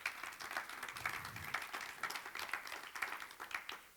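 An audience at a project pitching event claps in a sustained, moderately distant round of applause, the dense patter of many hands rising and falling without letup.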